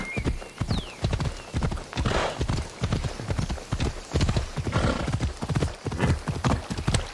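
Rapid rhythmic clip-clop of horse hooves galloping in Assassin's Creed Odyssey, loud and close, with a brief whinny near the start and a faint voice underneath.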